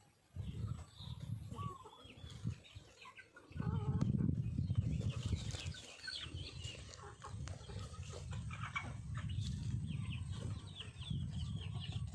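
Chickens clucking after feeding time, with low repeated clucks and murmuring calls from several birds, some nearby and some farther off, going on fairly steadily.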